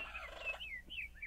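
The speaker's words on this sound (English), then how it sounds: "Oh, there are birds here." Birds calling in the video game Mochicraft, a few quick warbling and gobbling chirps in close succession, faint and alone over a low background.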